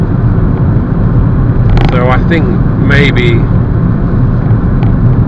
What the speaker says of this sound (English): I don't actually hear the engine, I hear the road beneath me